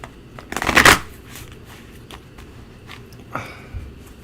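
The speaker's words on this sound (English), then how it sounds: "I'm shuffling just to shuffle some of my decks" A deck of Karma Tarot cards is shuffled in one loud riffling burst up close, then a couple of softer card taps follow over a quiet room.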